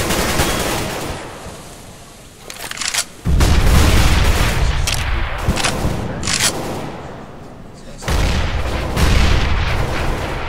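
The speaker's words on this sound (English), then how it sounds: "There's a lot of fire really being exchanged" Intense exchange of gunfire in Counter-Strike: Global Offensive, loud rapid automatic bursts and booming shots crowding together, briefly easing before surging again, with dense layered rattling throughout.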